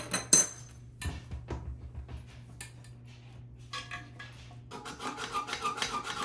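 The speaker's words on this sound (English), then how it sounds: "Here I am cutting the bolts off" A tool saws through metal toilet flange bolts in a bathroom, giving scattered rasping and scraping strokes and small metallic clinks, sparse at first and then a denser run of grinding near the end.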